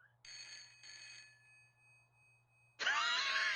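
A telephone rings in the Broken Sword adventure game, two short electronic trills separated by a pause, clear and isolated over a low steady hum, followed by a louder burst of other game sound.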